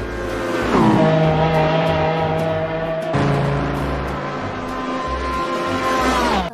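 A toy race car plays its sound effects: a loud revving, whining engine tone that sweeps and sustains, cuts off sharply partway through, then starts again and holds steady to the end, close up and with no one talking over it.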